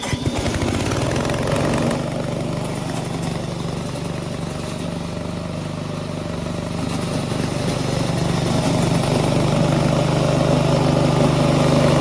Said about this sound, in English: use the button on the control panel to start the engine